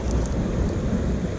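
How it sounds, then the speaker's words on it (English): Steady rain falls outdoors during a trout fishing trip, a dense, loud, continuous hiss and patter with a low rumble underneath, with no voices. "Rain's picking up a little bit"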